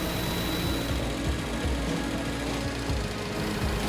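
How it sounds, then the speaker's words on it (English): A computer-controlled cutting machine at a Bentley luxury car factory cuts leather with a steady, rapid mechanical chatter and rhythmic thumps against a constant workshop hum. "You can actually see the machine cutting the leather."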